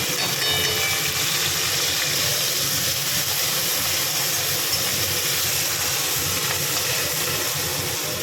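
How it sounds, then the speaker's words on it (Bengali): Sliced onions drop into hot oil with chili and cumin for a chicken curry, giving a steady, loud, hissing sizzle that runs unbroken the whole time with no talk. "লঙ্কা জিরে ভাজা হয়ে গেছে পেঁয়াজটা দিয়ে দিলাম"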